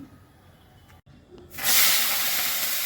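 Panch phoron and a bay leaf hit hot mustard oil with a sudden loud, bright sizzle that swells and holds steadily after a quieter stretch of low background noise.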